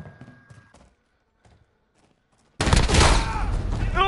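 A sudden burst of loud gunfire erupts after a stretch of quiet speech-like murmurs, a dense continuous volley of shotgun blasts in Call of Duty: Modern Warfare lasting to the end.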